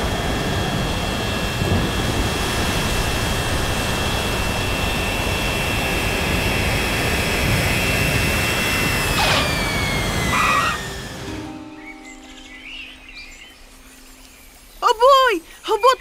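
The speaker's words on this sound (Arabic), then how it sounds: "سنقوم بهبوط الضراري في هذه الغابة عشان نجري بعض الإصلاحاتنا" An animated airplane's jet engine roars steadily during an emergency landing in a forest, then cuts off abruptly near the end, leaving quiet before voices begin.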